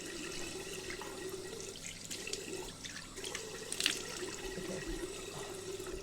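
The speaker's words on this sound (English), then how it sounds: "I'm done washing my face, so you won't have to hear the annoying water now." Water runs steadily from a tap into a sink during face washing, a continuous close splashing hiss with a few brief drips and splashes, no talking.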